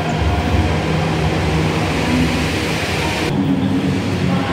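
A Jakarta MRT metro train runs steadily near Lebak Bulus on a busy Friday evening, with a continuous loud rumble of wheels and motors and no break in the noise.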